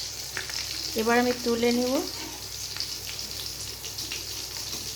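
Potato snack frying in hot oil, a steady soft sizzle and crackle running throughout, with a voice speaking briefly near the start.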